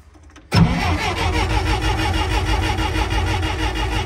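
The engine of a $500 street sweeper catches after a short silence, then runs at a steady, throbbing idle close to the microphone.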